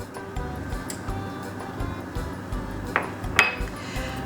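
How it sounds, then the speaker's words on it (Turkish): Lemonade and starch whisked in a pot on the stove for a lemon cheesecake filling: rapid light metallic clinks and taps of the whisk against the pot, close and irregular, with two sharper ringing knocks near the end. "İyice çırpıyorum."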